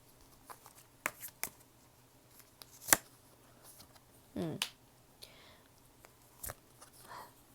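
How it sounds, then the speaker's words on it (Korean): Tarot cards being shuffled and drawn close up, with sparse, crisp snaps and flicks spread across a quiet background and a few soft rustles in between. "추가 카드 좀 더 뽑아보도록 할게요"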